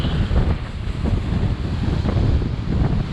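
Strong wind buffeting the microphone over choppy waves on an open lake during a solo canoe trip, a loud continuous rushing roar with irregular splashes and no voices.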